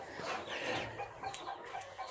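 Silkie, Polish and Brahma chickens clucking on a farm in North East England, a steady low murmur of several birds close by, with no talk.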